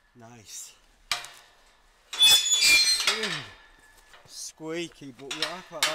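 A squeaky metal gate latch and lock are worked outdoors on a freezing winter mountain, giving short high-pitched squeals and creaks between metallic clacks and rattles, close by and moderately quiet.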